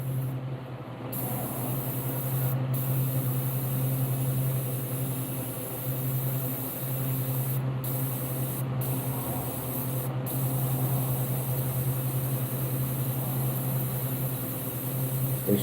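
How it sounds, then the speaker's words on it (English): An airbrush sprays white paint over a black area of a realistic largemouth bass painting, giving a steady, loud, close hiss over a low compressor hum, with a few brief breaks in the spray. "I'm spraying over the black area with the white, and this brush is being a pain."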